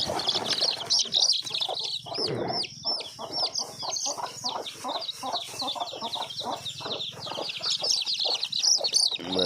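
Steady clucking and cheeping from a hen and her chicks, close by, with brief wing flapping partway through.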